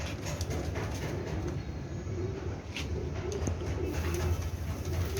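Golden pigeons, a pair of males with females, coo steadily at close range in a low, continuous murmur, with faint clip-clop-like knocks in the background.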